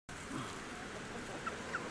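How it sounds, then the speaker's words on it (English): Rooster among hungry free-roaming chickens on Kauai, Hawaii, with faint soft clucks and a couple of brief chirps over a steady hiss of outdoor background noise. "The rooster."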